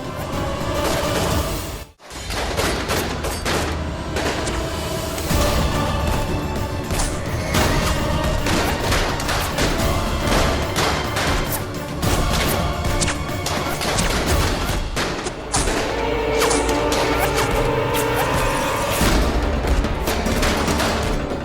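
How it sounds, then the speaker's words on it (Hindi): Loud, sustained gunfire with rapid bursts and heavy shots crackling nonstop, punctuated by crashes and impacts, with a brief lull near the start. "जो भी हम पे गोलियां चला रहा है"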